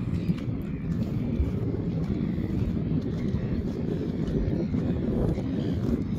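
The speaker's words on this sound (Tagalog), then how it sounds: "Lakas ang hangin." Steady, heavy wind rumble buffets the microphone on the coast near Dunedin, New Zealand, a constant low roar with no break.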